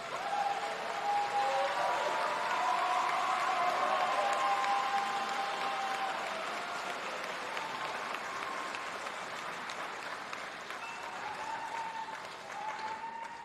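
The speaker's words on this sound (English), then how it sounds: "stand and turn and face your family and friends and give them an applause" Graduation audience rising to applaud families and friends, broad sustained clapping from a large crowd in a hall, slowly easing in loudness toward the end.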